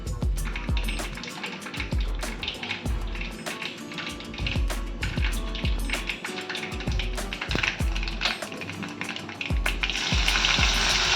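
Mustard seeds and asafoetida crackling in hot oil for a Konkani dish, loud close sizzling punctuated by rapid sharp pops and spatters, building in intensity toward the end.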